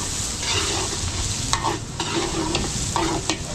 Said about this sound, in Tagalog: papulayin lang natin tong ating bawang sibuyas